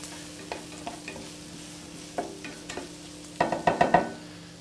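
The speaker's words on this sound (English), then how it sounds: "Just going to stir that through." Satay chicken curry is stirred in a pan, with spaced spoon scrapes and taps over a low sizzle, ending in a quick cluster of louder clacks, close and without talk.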